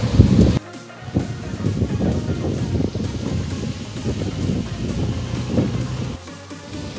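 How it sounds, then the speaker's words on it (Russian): Wind blowing strongly outdoors, a steady low buffeting roar with rustling gusts hitting the microphone for several seconds, close and fairly loud, with no talking over it. "Капец, ветра дует на улице."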